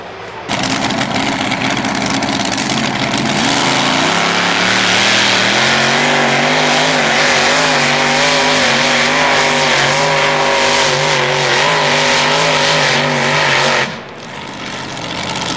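A powerful tractor-pulling engine, half of a V12 making about 1500 horsepower, roars loudly and steadily at a tractor pulling event in Haapajärvi, Finland, rising in pitch over several seconds before cutting off abruptly near the end, with no talking.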